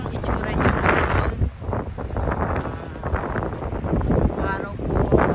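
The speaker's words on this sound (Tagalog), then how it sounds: "Medyo malamig nga lang po ang hangin." Steady wind blows outdoors beside calm water on a cool, clear day, a continuous rough rushing that buffets the microphone, with a person talking over it throughout.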